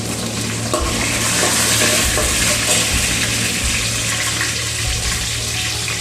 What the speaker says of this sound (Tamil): வெங்காயம் ஓரளவு வதங்கின பிறகு நம்ம எடுத்து வச்சுருக்க பச்சை மிளகாய் கூட ஆட் பண்ணிக்கலாம்